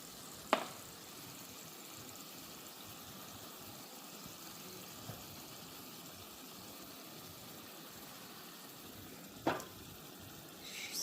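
Seasoned ground meat sizzles in a pan with a constant soft frying hiss, broken by a couple of sharp clinks of a utensil against the pan.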